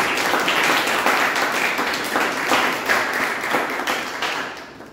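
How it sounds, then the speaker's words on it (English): Sustained applause from a Toastmasters meeting audience, many hands clapping in a dense, steady wash for the whole stretch before tapering off at the very end. "Let's give a big round of applause for them."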